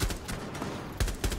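Gunfire in the shooter Rainbow Six Siege comes as several sharp, punchy shots in quick bursts, with a pause in the middle before two more close reports near the end, and no speech over them.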